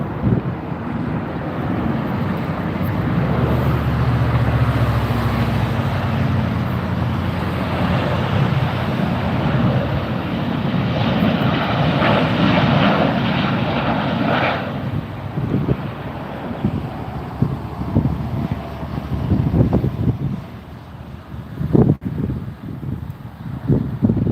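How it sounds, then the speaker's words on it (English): A Southwest airliner touching down at Las Vegas airport, heard as a broad roar rising and rumbling through much of the clip and fading toward the end, mixed with heavy wind buffeting on the microphone outdoors. "Nope, Southwest flight touchdown."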